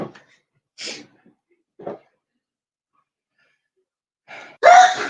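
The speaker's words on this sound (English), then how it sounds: "She's been sneezing since she came home yesterday" A sharp, breathy sneeze bursts out at the end, after a few soft sniffs and breaths in an otherwise quiet room.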